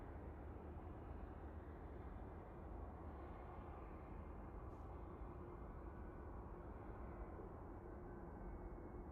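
A British Airways Airbus A320 touches down at Manchester Airport, a steady broad distant roar of jet engines and rushing air holding constant without talk.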